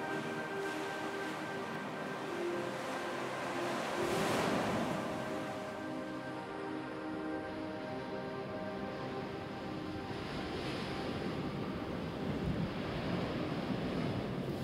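Ocean waves surge in and out of a narrow rocky chasm on the Oregon coast, a continuous loud roar of churning surf with wind noise, swelling around the middle and again near the end, no voices.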